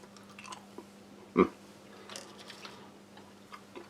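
Chewing crispy-coated British Army V6 peppermint dental gum close up: one sharp crunch of the brittle coating, then soft, quiet chewing clicks.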